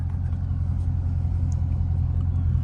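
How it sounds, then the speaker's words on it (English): A car rolls past at close range on a rainy road, giving a steady low engine rumble with a slight swell toward the end and no talking over it. "Let me let this car go by"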